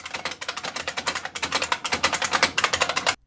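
An IBM Model F and a Model M mechanical keyboard are typed on in fast, even, loud clacking bursts that stop abruptly at the end, with no talk.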